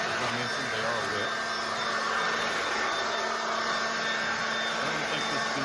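A Ryobi 40V leaf blower vacuum runs steadily at close range, a loud continuous motor-and-airflow roar with no pauses, on a sidewalk after wet weather.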